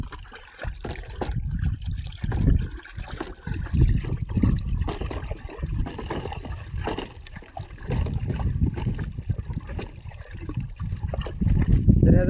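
Pesticide being stirred into 200 litres of water for spraying an okra crop, with steady sloshing and trickling water that swells and fades in irregular waves, fairly close and continuous with no talk.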